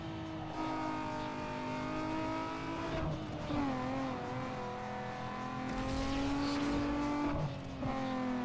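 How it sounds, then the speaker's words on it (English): A race car in Need for Speed Underground 2 revs hard and loud with a whining engine tone, shifting gears as the pitch climbs and drops, and a brief hiss of nitrous. "Did not mean to hit the nitrous."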